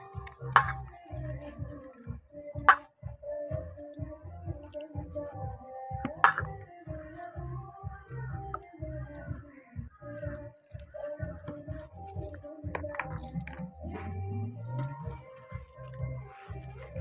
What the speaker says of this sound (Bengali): জলটা দিয়ে দিয়েছি, এবার সুন্দর করে মাখতে হবে এটাকে।